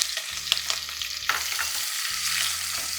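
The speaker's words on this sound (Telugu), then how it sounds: "ఉల్లిపాయలు మట్టుకి మంచి బ్రౌన్గా అయ్యేంత వరకు ఫ్రై చేయాలి" Chopped onions and green chillies frying in a pan for pulao give a loud, close, steady sizzle, with brief stirring scrapes over it and a low hum in the background.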